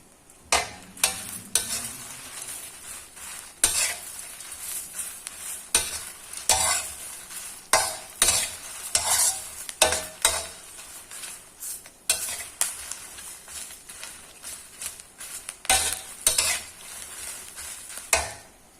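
Chili paste ingredients being stir-roasted dry in a pan, a spatula scraping and tossing them in repeated rhythmic strokes over a faint sizzle, close and steady without talk.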